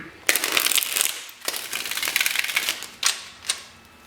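A tarot deck being shuffled by hand: a long riffling rush, then shorter crisp bursts and a couple of sharp snaps, close up with no talking.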